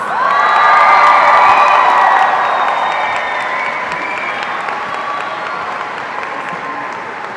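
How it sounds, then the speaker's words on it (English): A large crowd at a 2018 high school graduation bursts into loud, sustained applause with cheering and whoops, swelling at first and then slowly easing while the clapping continues. "Let's give our top scholars a traditional Tiger round of applause."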